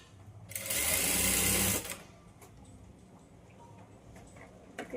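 A sewing machine runs in one loud, close burst of about a second and a half, stitching a strip onto a blouse, followed by quieter handling noises and faint clicks.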